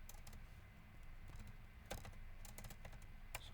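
Keys clatter on a computer keyboard in a quiet room, a run of soft, irregular taps with a few sharper strokes, close and faint, with no voice over them.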